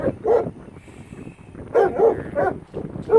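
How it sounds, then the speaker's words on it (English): Red female kennel dog barking in short bursts, a couple of quick barks, a pause, then a rapid cluster of three to four more, close and fairly loud. "She's a real tender dog."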